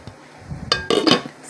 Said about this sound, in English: I'm going to go ahead and put the lid on for right now until everything else starts browning.